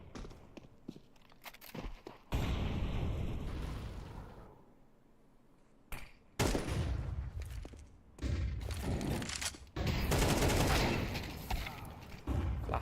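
Gunfire from a competitive tactical shooter esports playoff match, with sniper shots traded mid-map: bursts of sharp shots and loud, dense firing in several clusters, separated by quieter gaps.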